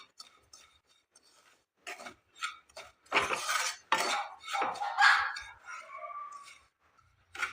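Semolina dry-roasting over low to medium heat in a pan for a Bihu barfi, stirred with a spoon, giving quiet intermittent scrapes and light clinks of metal against the pan.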